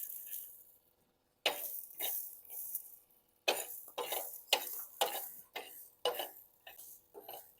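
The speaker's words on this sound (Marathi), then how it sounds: "हे जे तुरीचे दाणे आहेत हे पण आपल्याला भाजून घ्यायचे आहेत" Pigeon pea (toor) grains are dry-roasted in a pan, stirred in a run of short, close scraping and rattling bursts with silent gaps between them. The sound is fairly quiet and no voices are heard.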